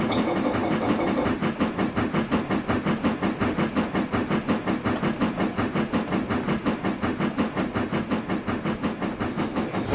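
A 1902-era steam train runs in the Trainz railway simulator: steady, rapid chuffing beats over continuous hiss and rumble, loud and even throughout, with no speech.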